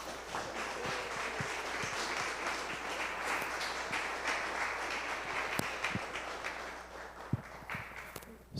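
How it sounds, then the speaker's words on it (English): An audience at a homebrew distilling club meeting gives a round of applause after a presentation, a soft, continuous patter of clapping from a modest room, with scattered sharp knocks and a few voices near the end. "So yes, we just had a round of applause"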